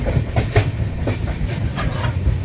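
A train rolls along the rails with a steady rumble and rhythmic clacks of the wheels, close by, with no voices.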